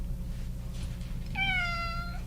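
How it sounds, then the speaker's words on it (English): A pet cat named Pippin gives one small, clear meow near the end, over a steady background hum in a room. "Please tell me you guys heard his little meow."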